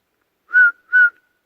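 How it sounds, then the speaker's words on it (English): Two short, clear whistled notes in quick succession, steady in pitch, sounding alone against silence. "Hear that whistle?"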